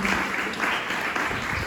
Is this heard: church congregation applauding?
yes